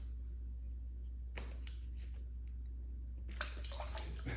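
Water is poured into a cup by someone blindfolded, with a faint trickle that swells into a brighter, close splashing pour near the end over a low background hum.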